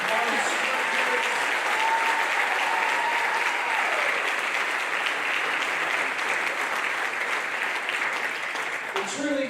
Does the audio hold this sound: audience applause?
yes